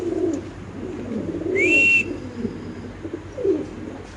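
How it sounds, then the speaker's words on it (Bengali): Pigeons, a pair of healthy, active birds kept for sale, give a few low, soft coos spaced across a few seconds, close by, with a brief higher whistle-like call in the middle and no talking. "আচ্ছা কবুতরের ডাকটা দেখেন মাশাআল্লাহ কতটা অ্যাক্টিভ"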